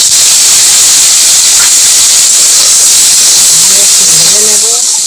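Turmeric- and salt-coated pieces of snake gourd (chichinga) sizzle loudly in hot oil in a kadai, a dense continuous hiss throughout with faint voices near the end.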